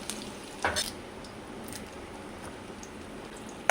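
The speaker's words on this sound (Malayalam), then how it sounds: "കറിവേപ്പില ഇട്ട് കൊടുത്ത് എല്ലാം കൂടി നന്നായിട്ടൊന്ന് മൂപ്പിച്ചെടുക്കാം." Shallots and curry leaves fry in coconut oil for sambar, a steady soft sizzle with a couple of brief scraping stirs near the start and one at the very end.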